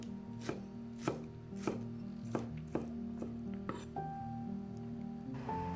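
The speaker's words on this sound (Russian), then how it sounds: "А тем временем нарезаем немного зеленого лука." Green onions being chopped with a knife on a board, about nine sharp, evenly spaced cuts close up, over soft background music.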